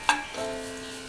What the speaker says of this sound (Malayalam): അതൊന്ന് മിക്സ് ചെയ്തെടുക്കാം.